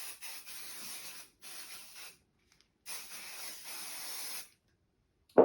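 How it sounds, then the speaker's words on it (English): Quilt layer being sprayed with a spray can: three sustained hissing bursts of about one to one and a half seconds each, separated by short pauses, close and fairly loud, with no talking. "Okay, so I've sprayed all of that."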